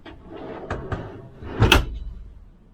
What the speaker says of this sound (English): the freezer is a pull-out drawer